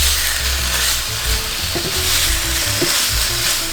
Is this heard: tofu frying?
yes